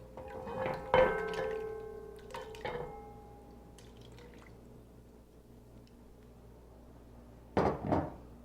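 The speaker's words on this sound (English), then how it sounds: "So into this pot now go the tomatoes." Tomatoes tipped into a cooking pot for tomato-soup mac and cheese make a few wet plops and liquid splashes in two short bursts, separated by a quiet stretch.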